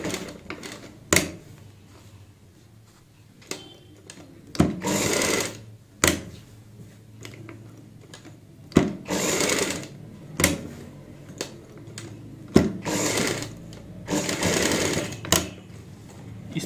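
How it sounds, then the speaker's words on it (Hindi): A sewing machine stitches the neckline of a kurti in short, repeated bursts with sharp mechanical clicks and pauses between runs, close and clear. "एक सिलाई और लगाएंगे"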